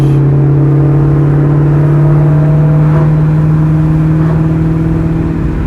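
A Ford Terminator Cobra engine drones loud and close from inside the car, holding a strong steady hum that rises slightly as it accelerates, with no talk over it.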